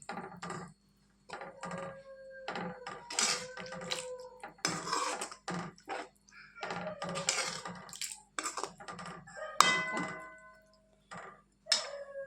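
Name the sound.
stirring boiled elephant foot yam pieces in a pan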